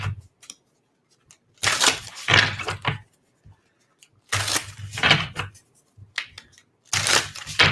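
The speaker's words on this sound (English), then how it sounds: "because I like the sound of shuffling cards." Close, crisp bursts of playing cards being shuffled, three separate riffles with short quiet pauses between them.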